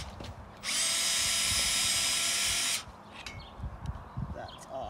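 A hammer drill whirs loudly for about two seconds, a steady high whine that starts and stops abruptly, with faint background noise around it, during greenhouse construction.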